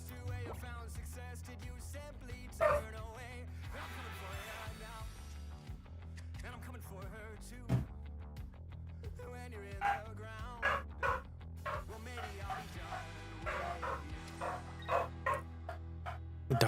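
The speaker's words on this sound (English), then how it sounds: "The dogs are barking." Several dogs bark in scattered, clustered bursts at moderate distance, sitting under continuous background music with occasional louder yaps toward the end.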